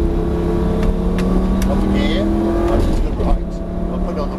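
A Lamborghini Gallardo drives a racing circuit, its engine note rising and falling as power is applied through a corner, heard from inside the car beneath an instructor's spoken coaching.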